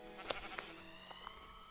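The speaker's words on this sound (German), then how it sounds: "Ey, ich hab Schafe." A sheep in the Minecraft game gives a soft, wavering bleat, faint and brief amid low game background sound.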